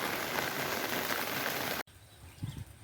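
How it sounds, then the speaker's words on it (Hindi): Rain falls steadily as a loud, dense hiss, then cuts off abruptly and is followed by faint background rustle and a few low muffled sounds. "वैसे ही हम लोग के यहाँ पर तो बारिश हो रहा है।"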